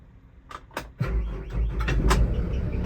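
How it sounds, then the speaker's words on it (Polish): A BOMAG BW 154 AP-4v AM steel road roller starting up: a few clicks and knocks, then the diesel engine fires and settles into a steady, close rumble. "Silnik ładnie zaskoczył, coś tam popiskuje, pewnie jakiś pasek"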